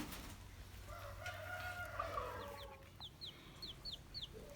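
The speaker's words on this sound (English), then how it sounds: "I hear more peeping under there" Chicks peep under a broody hen inside a chicken coop, a run of short, high, rising peeps in the second half over a steady low background hum, with no talking.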